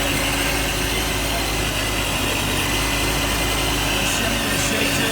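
Modified 1400 hp 2017 Corvette Z06 engine running at a steady idle, a loud continuous deep rumble with constant vibration throughout and no talk.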